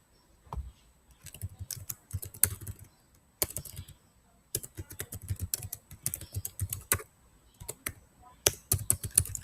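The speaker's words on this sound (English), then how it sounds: "Sorry, I'm not very good at typing." Irregular clattering keystrokes on a computer keyboard in uneven bursts with short pauses, close and fairly loud.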